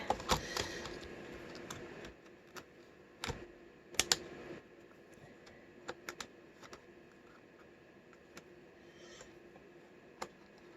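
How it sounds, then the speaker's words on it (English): Plastic clicks and sharp snaps come from a Compaq LTE Lite 4/25C laptop as its keyboard is pried loose, scattered irregularly over a quiet background with a busier rattle at the start. "we're going to do something stupid and dislodge the keyboard"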